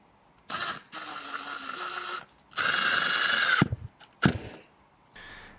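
Cordless drill driving screws into wood in several separate bursts of motor whine, the middle run longest and loudest, with knocks and handling clatter between them.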